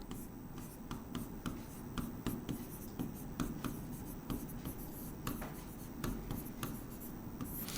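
Pen scratching on paper while writing chemistry notes for a Class 12 lesson on alcohols, a steady run of close, quiet strokes and taps with soft rustling throughout.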